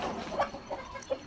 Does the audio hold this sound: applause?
no